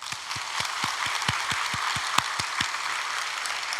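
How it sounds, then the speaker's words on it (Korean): Congregation at an early-morning Korean church prayer service clapping in a steady, rhythmic unison beat, about a dozen sharp claps over a bed of scattered applause, fairly loud and close, with no talking. "하나님께 영광의 박수 올려드리겠습니다"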